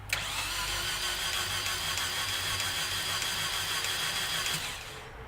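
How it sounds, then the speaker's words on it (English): A Ford Probe starter motor spins an engine that has lost all compression, giving a steady, even whirring drone that carries on for about four and a half seconds before tapering off. "you can hear the starter motor turning it with a lot of ease, which isn't supposed to happen"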